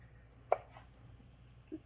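A knife slices a cooked vegetable in half on a cutting board, giving one crisp close thunk followed by a fainter tap, with no talk.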